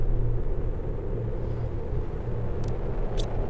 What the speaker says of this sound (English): Oh, not just a storm, meteorites.